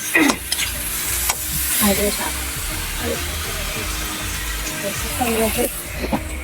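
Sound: food frying in a pan

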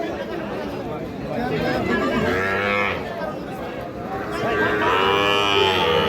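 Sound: cattle mooing at a calf market

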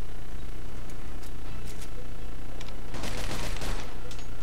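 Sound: grease gun firing in the video game Mafia II

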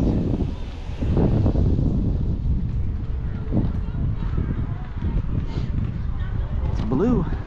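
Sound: wind blowing on the microphone outdoors

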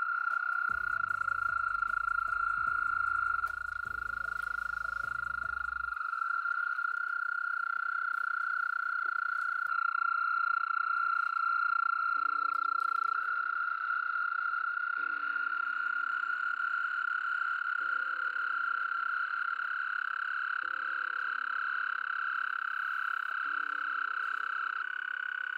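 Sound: American toads calling at night

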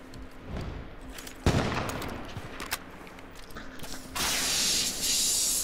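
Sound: gunfire in the video game H1Z1: Battle Royale

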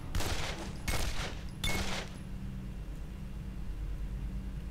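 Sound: gunfire in video game Condemned: Criminal Origins

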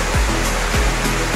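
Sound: Los Tercios waterfall, Suchitoto, El Salvador

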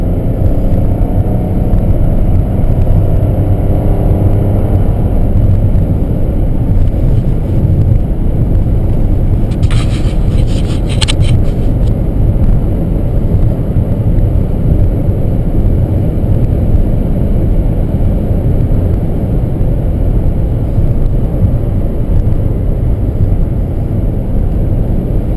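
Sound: 2012 Honda Crosstour engine roaring under hard acceleration

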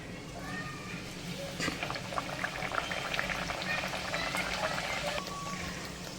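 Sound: puri dropped into hot oil and frying

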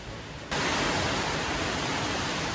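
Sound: light rain during typhoon Uwan

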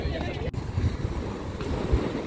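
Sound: sea waves near the campsite

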